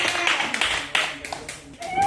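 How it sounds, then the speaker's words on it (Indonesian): Students in a classroom clap for a group after their persuasive speech practice, a short, uneven round of hand claps with children's voices mixed in. "Tepuk tangan untuk kelompok."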